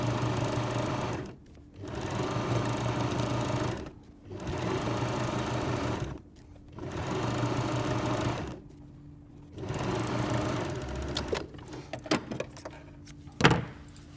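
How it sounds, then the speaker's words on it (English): A sewing machine stitches two fabric pieces right sides together along the top edge to form coat hanger pockets, running in five steady bursts separated by short pauses, close and loud, with a few clicks and handling knocks at the end. "And then we just sew these 2 pieces right sides together at the top, because these will form the pockets."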